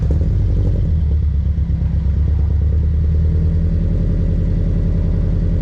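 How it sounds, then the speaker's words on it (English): A Subaru BRZ engine with its exhaust silencer removed fires up and settles into a loud, raw, rumbling idle. The uneven, clattering pulses sound close and carry on without talk. "Without silencer startup."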